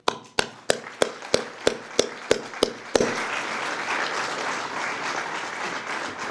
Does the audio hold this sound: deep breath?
no